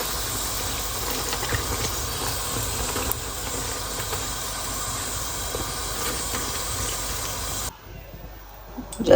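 Steam hisses in a steady, broad rush as the lid comes off a pressure cooker holding chickpea curry, then cuts off sharply near the end.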